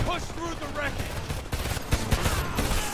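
Rapid gunfire from the video game Homefront rattles continuously in dense overlapping bursts, loud and close, with a voice talking over the shooting.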